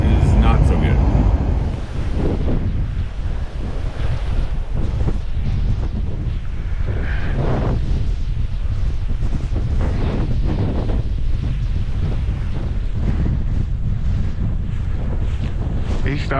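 Strong wind, sustained around 30 mph with gusts to 50, buffets the microphone in heavy, continuous gusts during an Iowa pheasant hunt, with a low roar that barely lets up.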